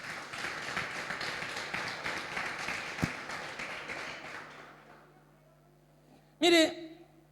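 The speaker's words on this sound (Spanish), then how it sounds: "Fuerte el aplauso al que vive." Church congregation clapping together for several seconds, a dense wash of applause that fades out midway, followed near the end by a brief louder burst of other noise.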